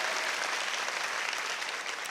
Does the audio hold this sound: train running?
no